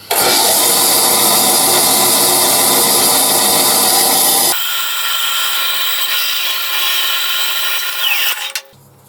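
Router cutting a wooden insert freehand, a loud high whine with grinding bite that drops to a lighter spin partway through, then winds down and stops.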